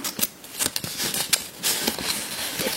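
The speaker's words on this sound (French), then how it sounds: "Des petits bruits de papier." Close, continuous crinkling and rustling of paper, with small crisp crackles and taps throughout, fairly loud and intimate.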